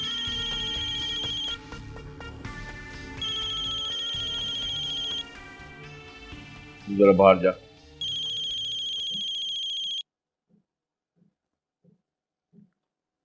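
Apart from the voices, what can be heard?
phone ringing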